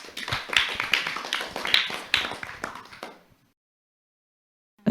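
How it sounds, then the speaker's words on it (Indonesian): A school audience at a madrasah event claps for a student's performance: dense, fast clapping for about three seconds, then it stops abruptly into silence. "Kita kasih tepuk tangan."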